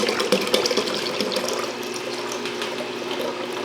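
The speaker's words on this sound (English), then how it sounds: "I think I'm gonna have to add more water." Water runs steadily from a kitchen tap into a container in a home kitchen while butter, kombucha or yogurt is being made, making a continuous close splashing rush that lasts throughout with no talk.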